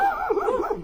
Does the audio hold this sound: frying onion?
no